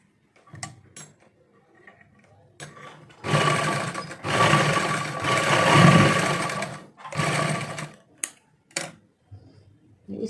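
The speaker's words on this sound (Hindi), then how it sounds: "यहीं के यहीं ऊपर के ऊपर आप इसको इस तरह से भी स्टिच कर सकते हैं।" Sewing machine stitching the joint of a trouser waistband, with the front belt and back elastic. Bursts of motor whir and needle run come close up, separated by short pauses and small handling clicks.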